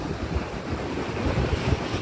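Ocean surf rolls and crashes steadily as strong wind buffets the microphone, a dense continuous wash of water and gusts with no voices.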